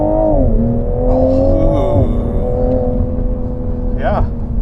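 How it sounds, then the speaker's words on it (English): A 2021 Toyota GR Supra 3.0 launches hard under launch control, its engine note rising and shifting in steady pitch sweeps over a loud continuous roar, with speech over the top. "So it does have more burnout, more peel from the launch control initially, but then it has this good bite to it."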